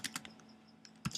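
Keystrokes on a computer keyboard while writing ActionScript 3 code, a quick cluster of clicks, a pause with a few scattered taps, then another burst of close, crisp presses.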